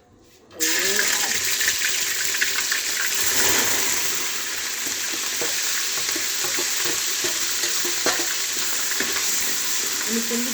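Ground masala hits hot oil for a rajma tempering and bursts into a loud, steady sizzle that continues with light stirring clinks, close up and without talk.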